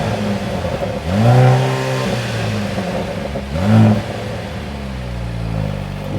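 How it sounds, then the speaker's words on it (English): A stationary Mercedes GLC 43 AMG compact SUV engine is revved twice, each burst rising sharply then falling back to a low idle rumble between them. "just give you some revs from a standstill"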